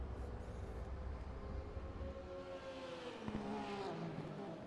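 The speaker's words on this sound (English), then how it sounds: "Ooh, love that flat 6 sound though." A flat-six car engine in the RaceRoom Racing Experience game, a steady low drone with a whining tone that shifts in pitch, moderately quiet and heard alone.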